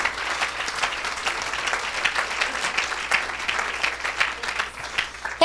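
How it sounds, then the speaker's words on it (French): A church congregation applauds in a steady, dense wave of clapping that fills the room and holds evenly from start to finish. "Oh, acclame Jésus"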